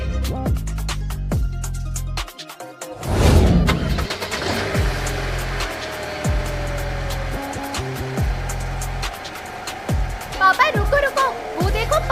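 A car engine runs steadily as the car drives, a low continuous hum under background music, with short bursts of louder noise and people talking over it.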